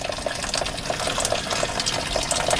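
Hot water poured out for washing up a plate and cup at an overnight bush camp near Rollingstone, North Queensland, a steady splashing gush running continuously and fairly close throughout.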